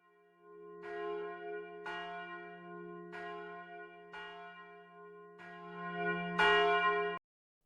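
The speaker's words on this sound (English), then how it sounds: "But church bells are a noisy relic of the past." Church bells ring in slow, evenly spaced strikes, six tolls with long ringing tails, clear and moderately distant, no voices.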